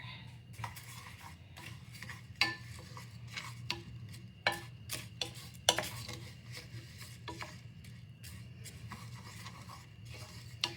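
A metal spoon stirs a cup and a half of millet toasting dry in a pot over a gas flame, giving soft scraping and sharp intermittent clinks against the pan, close and quiet.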